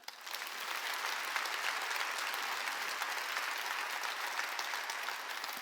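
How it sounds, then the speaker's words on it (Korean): A church congregation at a Wednesday worship service applauds the newly ordained officers, an even, sustained crowd clapping that swells in quickly and holds steady without a break. "하나님의 음성으로 들어서 박수 좀 쳐줘요"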